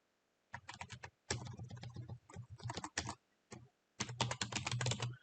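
Bursts of quick key clicks as a username is typed on a computer keyboard during an Ubuntu 20.04 Linux install, close and clear, with short pauses between runs and no talking.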